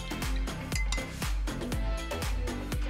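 A rhythmic run of clinks against a glass container as a salt and vinegar solution is stirred, roughly two or three strikes each second, close and clear.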